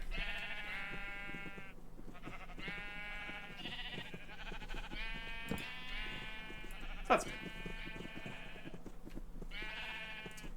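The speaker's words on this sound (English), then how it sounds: "we got way more than 32 sheep" Repeated sheep bleats from a large flock in a Minecraft-style survival multiplayer game, several overlapping calls in sequence with a brief click, over a steady low background while a player speaks briefly.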